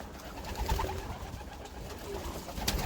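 Soft pigeon cooing mixed with faint rustling and background noise, steady and low, with no speech.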